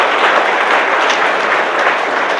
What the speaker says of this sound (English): give Elihu a round of applause